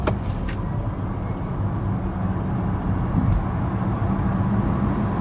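A Volkswagen ID.3 electric car accelerating hard in sports mode from 50 to 100, heard from inside the cabin as a steady, loud low rumble of road and drivetrain noise throughout, with no talking.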